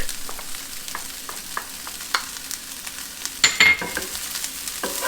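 Minced garlic sizzles in hot oil for a char siu bao filling, a steady close frying hiss broken by stirring scrapes and a brief louder burst of sizzle.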